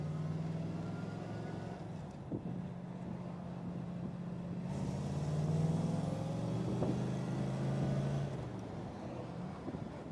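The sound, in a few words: 1961 Chevrolet Corvette Fuelie engine while driving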